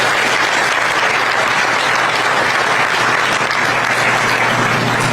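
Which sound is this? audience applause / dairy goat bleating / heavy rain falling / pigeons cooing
audience applause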